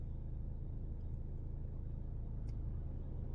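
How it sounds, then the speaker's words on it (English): Quiet, constant low engine rumble of cars moving through a road crossing, heard from a vehicle waiting nearby, with faint hints of an engine revving under the drone. "Got all these cars coming at this crossway."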